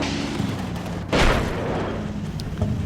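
A single Panzerfaust launch in the World War II game Combat Mission: Battle for Normandy, heard as one sharp boom over a steady rumbling background that fades out afterward.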